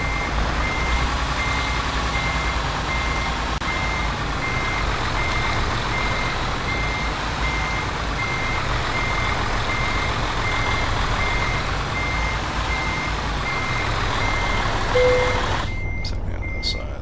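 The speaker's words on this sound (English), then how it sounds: "Parking the trailer." Steady reversing beeps pulse from a truck backing a trailer into a parking spot in Euro Truck Simulator 2, repeating evenly over a loud, continuous diesel engine rumble before cutting off near the end.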